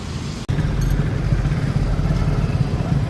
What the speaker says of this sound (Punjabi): ਲਿਆਂਦਾ ਮੋਟਰਸਾਈਕਲ ਨਵਾਂ ਹੀਰੋ ਵਾਲਾ